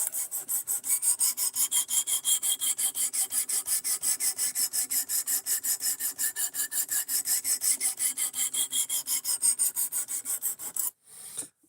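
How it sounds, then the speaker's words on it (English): Knife sharpening on an abrasive, hogging off a lot of material: a steady, fast rhythmic rasping of repeated strokes, close and fairly loud, continuing for about ten seconds before stopping abruptly. "this is for the live stream, so we can sharpen knives and go back in on them when we're done."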